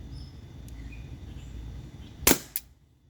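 A Glock 17 Gen 5 T4E .43 cal pistol fires a single sharp, fairly quiet shot in a backyard, followed a moment later by a fainter secondary snap, against light outdoor ambience with faint insect chirps.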